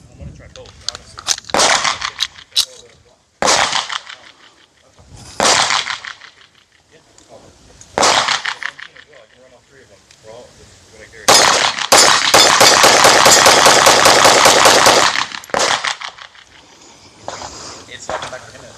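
A Kimber KDS9C 9mm compact pistol fired at steel targets outdoors: several single loud shots spaced a few seconds apart, then a fast continuous string of shots emptying the magazine. A voice talks between shots.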